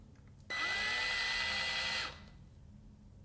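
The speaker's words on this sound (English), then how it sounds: "you want to drill some holes" A power drill bores holes into a wooden plate, a steady high whine starting abruptly, holding for about a second and a half, then spinning down, close and loud, no talking.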